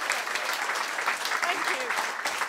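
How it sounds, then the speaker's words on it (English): An audience at a nerd-themed talk event gives a round of applause, a fairly quiet, continuous wash of clapping with some voices mixed in throughout. "Big round of applause, please, for Simcha."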